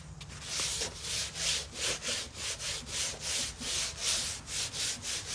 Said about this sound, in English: The thing about sanding is the more you sand it, the more you see the imperfections